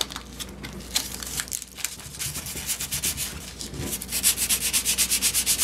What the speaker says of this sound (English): taking extra fine sandpaper and sanding away the surface just on the top